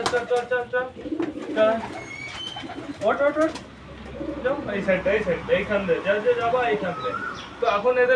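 Several pigeons indoors inside a house give soft, repeated throaty coos at close range, overlapping one another amid light rustling and a person talking nearby.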